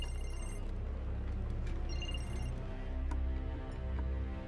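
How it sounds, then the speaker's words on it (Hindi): A telephone rings indoors in a Hindi film scene, a continuous trilling ring heard alone over a steady low background, with no talk. "फोन आ रहा है तुम्हारा।"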